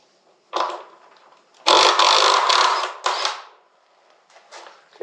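A 16 mm nut being undone on a Royal Enfield motorcycle wheel, heard as close, loud bursts of rasping ratchet-and-metal scraping, with one long grinding stretch between shorter clicks and pauses.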